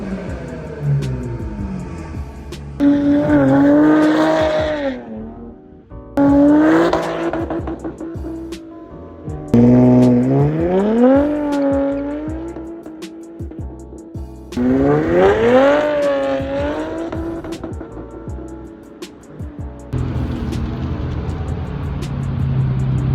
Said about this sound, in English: You can hear the turbos way more.